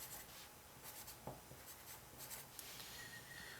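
A pen scratches and rubs faintly as an equation is written out for a physics homework solution. The strokes come in short, quiet bursts close by, with no voices.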